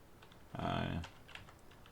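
A short, close burst of rapid keystrokes on a computer keyboard while someone names a pattern in music production software, with quiet room tone around it.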